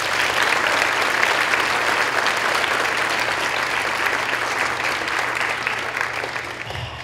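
Loud, sustained applause from a school audience at a 7th and 8th grade holiday concert, a dense steady wash of many hands clapping that tapers slightly near the end.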